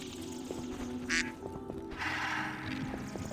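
Duck in The Witcher 3 video game quacking, a series of small nasal quacks at a steady pace over a low ambient game backdrop, with no talking.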